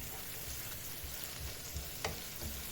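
Steady sizzling of vegetables and peppers sautéing in a pot for chicken pilaf, a soft continuous crackle with an occasional light stir or clink.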